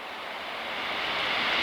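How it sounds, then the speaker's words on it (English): A train rumbles past as a broad, rushing roar, swelling steadily louder over a couple of seconds with no voices. "There goes another train."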